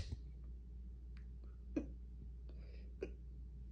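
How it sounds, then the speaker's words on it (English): Hiccups in a puppet show: a few short, sharp catches, spaced irregularly and heard fairly close against quiet background hum. "I've already got the hiccups."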